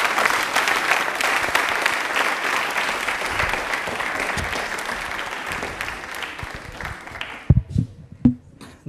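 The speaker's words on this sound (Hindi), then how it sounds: "तालियां एक बार जोरदार हो जाए इनके लिए" A studio audience at a televised quiz on Indian Railways breaks into sustained, dense clapping for a contestant, steady and loud for several seconds before thinning into a few scattered claps at the end.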